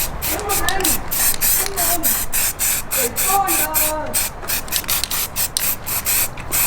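Aerosol primer hisses onto car parts in short bursts during an alloy wheel refurbishment and respray on a Mk2 Ford Focus ST. The bursts come loud and close, with a stretch of continuous spraying.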